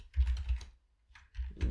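Typing code on a computer keyboard: close, quick clusters of key clicks in two bursts separated by a short pause, with no talking.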